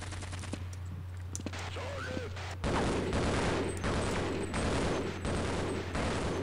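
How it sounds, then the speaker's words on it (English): Gunfire in the video game Half-Life: after a quieter stretch with a steady low hum and scattered clicks, dense sustained bursts of automatic fire erupt and continue loudly to the end. "Who the frick is shooting at me?"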